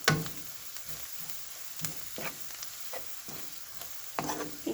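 A utensil stirs Ethiopian berbere spice frying in a pan, with a steady soft sizzle and repeated scraping strokes at irregular intervals, close and alone without talk.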